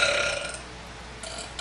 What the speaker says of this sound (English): some gross ugly girl burping